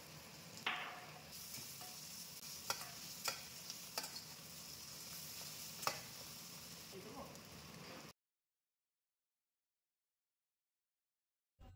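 Cumin seeds sizzling in hot oil while cooking: a steady crackling sizzle with a few sharp clinks and taps, ending abruptly in silence with a brief sound at the very end.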